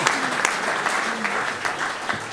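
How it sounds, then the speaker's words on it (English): A group claps steadily, a dense patter of applause continuing throughout, at a Columbus Metropolitan Club event. "I saw your whole commission table clapping over there, Tim."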